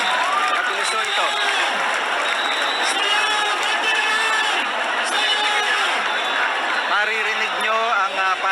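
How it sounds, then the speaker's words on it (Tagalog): Devotees at Quiapo Church in Manila cheer, shout and applaud in a dense, continuous crowd roar during the return of the Black Nazarene's carriage. Voices rise loudly over the din throughout. "Maririnig nyo ang palakpakan, hiyawan ng mga deboto"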